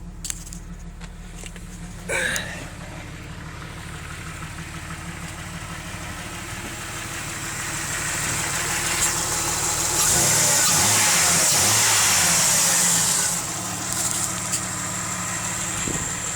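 A jeep engine idles steadily up close with a low rumbling drone, keys jingle briefly early on, and the engine note rises and settles midway.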